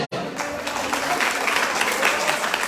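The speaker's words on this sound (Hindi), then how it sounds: "हम चाहते एक बार जोरदार ताली दे दें" Loud, sustained applause from a crowd, dense clapping that starts almost at once and carries on steadily throughout.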